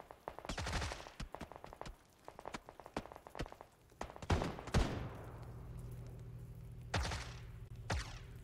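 Bursts of Tommy gun fire in PUBG ring out at a distance, short rattling volleys separated by gaps, with faint footsteps and thuds between them.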